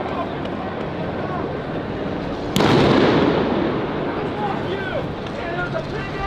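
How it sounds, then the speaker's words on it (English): A single sharp gunshot cracks out from above, fired from atop a tower during a street protest in Los Angeles, loud against a steady crowd and traffic din, then the noise settles back. "they're shooting from above, I think, again"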